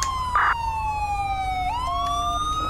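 A police car siren in the GTA V video game wails steadily with a falling, sweeping pitch and a brief burst of another tone early on, fairly loud over a low engine-like rumble.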